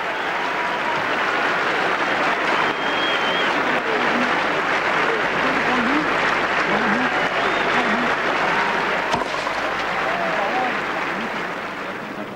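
Sustained applause from a packed tennis stadium crowd at the 1992 French Open at Roland Garros, a dense, steady roar of clapping lasting throughout and easing slightly at the end, with faint voices mixed in.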